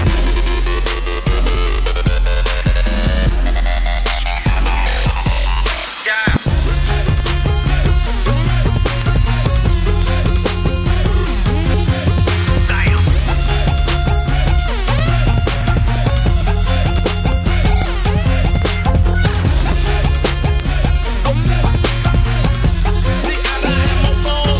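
Music mixed live on Serato DJ software, a dense, loud track running continuously with a brief dropout near six seconds before a heavier beat and bassline take over for the rest.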